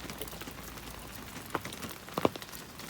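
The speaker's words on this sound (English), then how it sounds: "It's been raining all night last night" Steady soft patter of rain on a hard outdoor surface, with a few louder drips standing out near the end.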